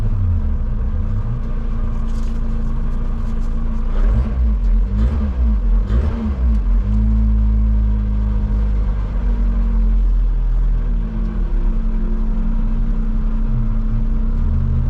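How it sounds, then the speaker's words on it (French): A Lotus Exige 260 Cup engine drones loudly and steadily from inside the car on a track day, rising briefly as it revs and then settling back into a constant rumble. "vous allez peut-être pas m'entendre bien longtemps avec le casque, le bruit de la voiture surtout"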